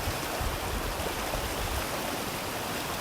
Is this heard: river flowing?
yes